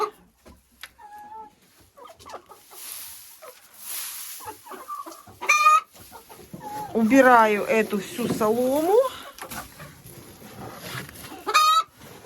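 Hens cluck and squawk nearby in loud bursts, with a rooster-like call near the end, while a person talks intermittently over them.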